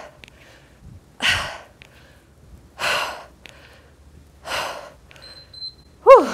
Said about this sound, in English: You guys probably notice my breathing patterns.